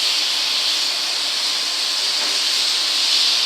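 Chunky pieces of lamb sear in a hot pot, giving a loud, steady sizzling hiss that holds unbroken throughout.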